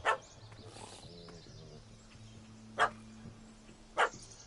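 A puppy in The Witcher 3: Hearts of Stone video game gives a few sharp, separate barks, one at the start and two more spaced later, moderately close over low background music and ambience.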